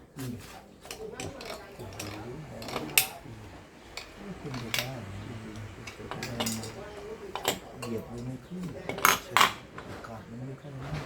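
Residue is scraped off the throttle-body butterfly valve of a 2014 Toyota Altis: short metallic scrapes and clicks in an uneven rhythm, with a voice talking over them.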